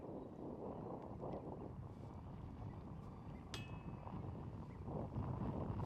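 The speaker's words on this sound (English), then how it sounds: "you can hear that wind just ripping off the lake" Strong left-to-right wind blowing in off a lake across an open disc golf course, a steady close rushing roar and microphone buffeting that rises slightly toward the end, with no talking.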